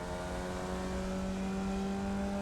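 A Formula Vee's old air-cooled VW engine, rear-mounted and driving the rear wheels, drones steadily at constant revs in the iRacing sim, a loud, even, buzzing tone with no talking.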